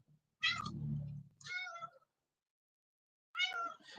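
A cat meows three times close by, a long call followed by two shorter ones separated by a quiet pause, with no talking.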